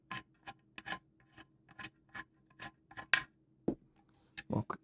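Unscrewing a screw on an outdoor WiFi 6 access point, a series of short dry scraping and ticking strokes in an irregular rhythm, close and quiet, with a few sharper clicks near the end.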